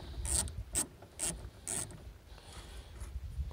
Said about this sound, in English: put it on there, put a nut on it, tighten it down.